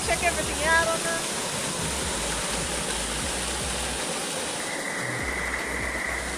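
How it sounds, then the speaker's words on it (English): A big waterfall at Katherine Hot Springs in the Northern Territory gives off a steady, dense roar of rushing water. The roar holds loud and unbroken throughout, with a brief hint of voices near the start. "The waterfall is huge when you get here."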